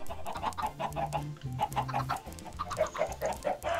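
Chickens cluck repeatedly in the video game Minecraft, a steady run of short, close clucks layered over low background game noise, with no voices.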